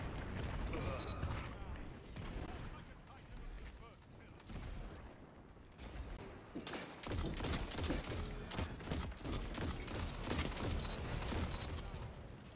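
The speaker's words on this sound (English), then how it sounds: "Oh, my explosion got him." Explosions and gunfire fill a Destiny 2 match in bursts of booms and crackling shots, loud and rapid, with a player's voice talking over the action.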